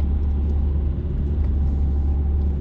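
A car drives along the road during a driving lesson, its steady low engine rumble and road noise filling the cabin at an even level, with no talk.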